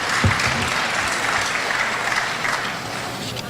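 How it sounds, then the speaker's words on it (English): Steady, full audience applause fills a school career and technical education signing-day event, a dense, even roar of many hands clapping throughout. "Please give her a round of applause."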